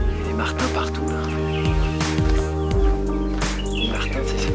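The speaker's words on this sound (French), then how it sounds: "Les martins c'est ces petits oiseaux noirs, plus gros qu'un moineau, noir avec une espèce de masque orange sur les yeux." Common mynas call on the Morne Brabant hiking trail in Mauritius, a series of sharp, bright chirps and squawks rising repeatedly above a steady drone of background noise.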